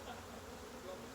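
Honeybees buzz in a dense, steady drone close by while a beehive is opened for inspection, the hum continuous and even.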